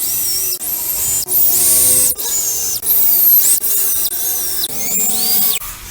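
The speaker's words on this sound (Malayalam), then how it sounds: "ഇതിൻ്റെ എല്ലാ ഈ ഹോൾസിലൊക്കെ നമുക്ക് സ്ക്രൂ ഇട്ട് ഇത് ടൈറ്റ് ചെയ്യാം" Power tool driving screws into a JBL 1500 subwoofer box, heard as several short, loud whirring bursts with rising pitch, separated by brief gaps.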